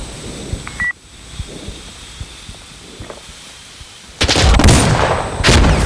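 Sharp gunfire bursts in the shooter game Insurgency Sandstorm, a few isolated cracks early then a loud cluster of rapid shots near the end, with brief electronic beeps.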